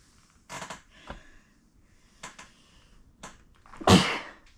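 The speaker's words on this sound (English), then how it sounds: "I'm sneezing." A single sharp sneeze bursts out near the end, close and loud, after a few quiet creaks and small handling noises in an otherwise still room.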